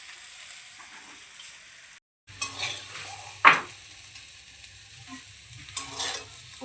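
Bitter gourd and potatoes fry in a pan with a steady low sizzle, broken by a short gap and a sharp metallic clink of a utensil against the pan partway through, plus occasional stirring scrapes.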